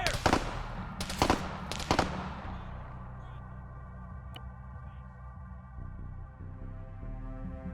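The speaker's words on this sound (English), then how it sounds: "Enemy fire!" Enemy gunfire in the military game ARMA during a night operation, three loud sharp shots in quick succession followed by distant pops over a steady engine-like drone.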